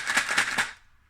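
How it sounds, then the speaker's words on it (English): A homemade maraca made of two yogurt pots taped together with dry pasta inside is shaken in three quick rattling bursts, close and fairly faint, then falls silent. "That's the noise of the pasta inside."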